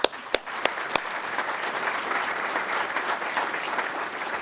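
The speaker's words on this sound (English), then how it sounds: "they deserve a round of applause for that." An audience at a business breakfast forum breaks into steady applause, opening with a few sharp individual claps before settling into a moderate, even wash of clapping from the crowd.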